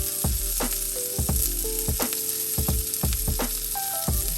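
Garlic sizzles in a pan while oyster mushrooms are stir fried, a continuous close frying hiss broken by regular scraping clanks of the utensil against the pan, with no talk.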